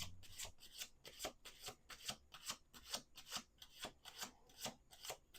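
Tarot cards being shuffled in steady repeated bursts, about a dozen quick riffling rasps close up, with no talking.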